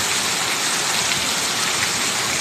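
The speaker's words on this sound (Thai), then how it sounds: "นี่ครับบรรยากาศยามสายฝนโปรยปลายครับพี่น้อง" Heavy rain falls on a Thai integrated farm after a long drought, making a dense, loud, unbroken hiss of downpour with no voices over it.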